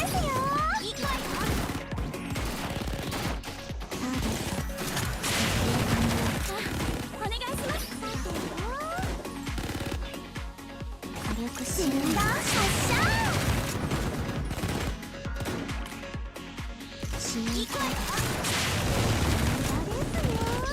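Gunfire and impacts in the anime game Blue Archive, a dense stream of shots, crashes and booms layered over game music and effects, with occasional voice sounds mixed in.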